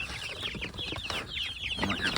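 Several backyard chickens cluck close by in quick, overlapping chirrups and chatter, continuous throughout.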